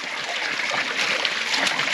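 Fresh mountain water pouring steadily from a 1.5-inch agricultural pipe on a remote island in northern Vanuatu, a continuous close splashing rush with no voices.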